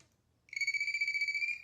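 A handheld voltage tester held up to a live electrical source gives off a rapid pulsing electronic beep, a bright trilling tone that starts abruptly after a brief quiet moment and continues steadily.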